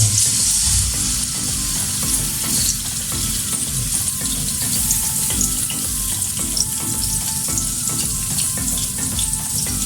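Ginger-garlic paste fries in about two large spoons of hot oil in a karahi, with a steady, loud, close sizzle and crackle and some stirring scrapes throughout, no voices.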